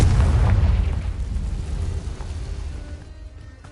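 A Confringo blasting spell from the Hogwarts Legacy video game bursts in one loud, deep boom that fills the low end, then rumbles and slowly fades over several seconds.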